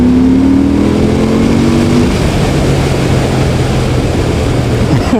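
A Victory Octane motorcycle accelerates hard in third gear out of a roundabout, its engine note loud and close, rising steadily in pitch as it pulls away, then easing toward the end.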